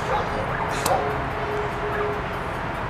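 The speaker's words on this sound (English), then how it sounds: "Then we got dogs barking every 2 seconds." Dogs bark and yip in the distance over steady background noise, brief and scattered rather than constant.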